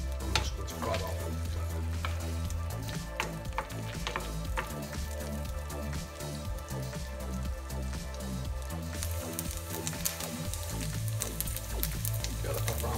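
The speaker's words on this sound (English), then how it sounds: "So we're just going to add the pepperoni in. I'm just going to fry that" Pepperoni fries in a pan for a spicy keto omelette, giving a continuous crackling sizzle with occasional stirring clatter, heard steadily under a loud backing of rhythmic music.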